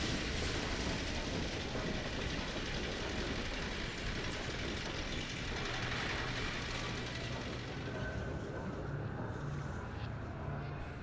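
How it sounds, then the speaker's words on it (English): A train rumbles past in the Half-Life 2 video game, a loud continuous roar and rattling wash that fills the scene and slowly thins out toward the end. "Some kind of train."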